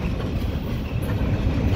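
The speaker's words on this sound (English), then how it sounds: "Got 6 locomotive consists on this train." A CSX freight train with six locomotives rolls steadily past near Oxford, Ohio, a loud, continuous rumble of wheels and cars with faint clatter and no break in the noise.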